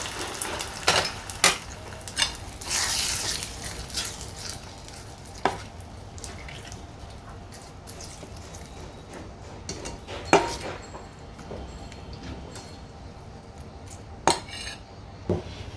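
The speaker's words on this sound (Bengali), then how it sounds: "এবার তরকাটাকে এই মিশ্রণের মধ্যে দিয়ে দিচ্ছি দিয়ে মিশিয়ে নেব" Tempering being stirred into a semolina and yogurt batter, a spoon clinking against the bowl in scattered sharp taps with a soft scraping stir between them, close and fairly quiet with no talk.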